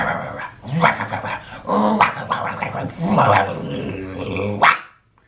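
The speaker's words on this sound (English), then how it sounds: "that sounds like one of those little yuppie dogs, right? Like a terrier." A small terrier-type dog in a front yard barks and growls in repeated close, loud bursts, with brief whimpering between outbursts before it cuts off.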